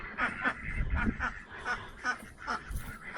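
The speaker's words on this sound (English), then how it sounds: "All the ducks." Farmyard ducks on a frozen winter day give repeated short quacks and honks in irregular bursts, fairly close and moderately loud, with some low rumbling noise underneath.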